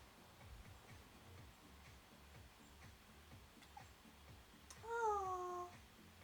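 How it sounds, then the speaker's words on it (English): A cat's short chirping trill rises near the end over a quiet room with faint rhythmic ticking, the call clear and close but brief, lasting under a second. "You guys hear the kitty? Sometimes she'll chirp with the birds outside."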